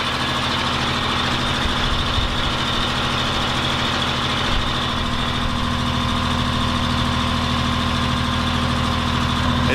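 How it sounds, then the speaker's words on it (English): A homemade generator engine in an RV, a 1977 Peterbilt 359 toterhome, idles with a steady low, throbbing drone and mechanical rattle, close and constant throughout. "It's certainly not the quietest generator I've ever heard, but I don't think it's any worse than one in my other motorhome."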